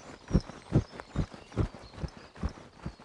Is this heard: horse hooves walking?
yes